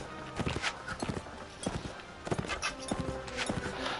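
A horse's hooves clip-clop at a steady pace in the medieval combat game Mount and Blade Warband, with repeated sharp close hoofbeats over a continuous rumble of the game.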